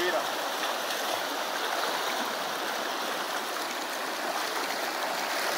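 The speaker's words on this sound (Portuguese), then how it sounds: "Olha a força da água aí." Fast-flowing water of an igarapé forest stream in Pau-D'arco, Maranhão, rushing steadily and loudly at close range with no pause, a broad continuous wash that covers everything else.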